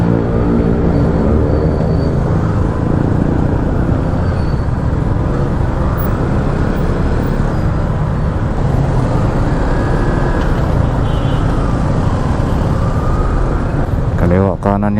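Cars travel in both directions on a busy road, making a loud, unbroken roar of close passing traffic throughout.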